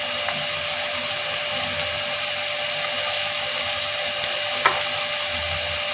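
Crushed garlic and ginger with onions frying for a Bengali-style prawn biryani make a steady hiss of hot oil. A thin tonal whine runs underneath, and a few light clinks and scrapes come near the end.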